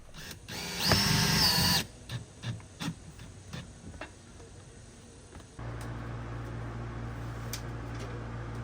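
A power drill drives screws while a washing machine is installed in a fifth-wheel RV: one short whirring burst, a few scattered clicks and taps, then a steady low hum.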